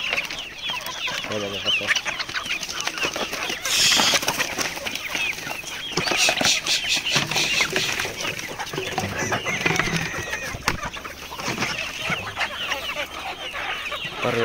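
Desi village hens at a poultry farm cluck busily while pecking at feed, a near, continuous jumble of clucks with occasional wing flaps, and someone talks over them.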